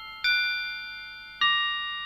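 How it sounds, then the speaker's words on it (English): Two struck bell tones from a bells stop on a Hauptwerk virtual organ, each a bright, ringing strike with a long decaying sustain, clear and isolated. "Bells."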